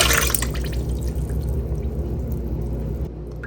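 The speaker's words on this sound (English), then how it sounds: "I am adding 1 cup of water" Water poured into a mixing bowl of sugar for pickle brine, a steady continuous pour splashing close up with a bright trickling texture, stopping abruptly near the end.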